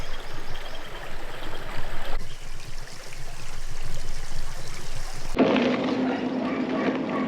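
Clear, cold water of the Vrbas river flows in a steady close rushing wash, with the tone shifting abruptly twice as the sound changes, continuing without any voices.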